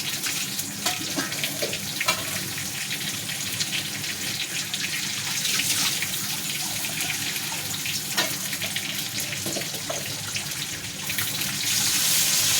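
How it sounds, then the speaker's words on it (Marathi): Water pours steadily into the side of a pan of stuffed brinjal curry coated in oil and masala, a close, continuous rushing splash with no voices. "आता मी थोडंच पाणी टाकलं शिजायला"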